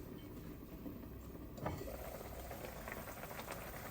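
A lidded pot of chicken and tofu simmers on the stove, giving a soft, steady bubbling hiss with faint pops and one small clink, all quiet and close.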